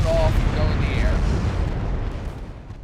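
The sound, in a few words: naval gunfire and shell explosions in Ultimate Admiral Dreadnoughts video game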